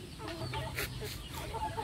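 Young farm chickens, kept as breeding stock with their tail feathers clipped, cluck repeatedly in short, close bursts, with some voices faintly behind them.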